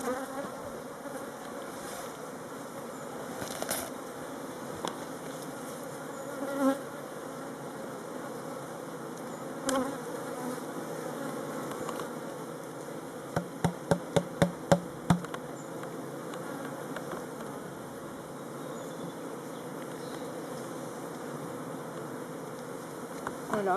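A honey bee swarm being moved into a hive box fills the air with a steady, dense buzzing, joined by a short run of sharp wooden knocks and a few scattered taps.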